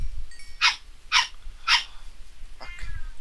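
A dog in the PolyCraft video game makes three sharp breathy huffs or sneezes, evenly spaced, followed by a softer fourth, up close over a low hum of game background.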